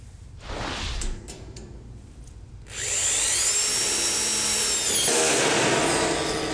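A screw gun whines loudly up close, starting with brief bursts and then a sustained high-pitched drive as a self-drilling screw bites through steel framing.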